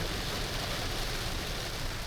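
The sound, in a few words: heavy rain pouring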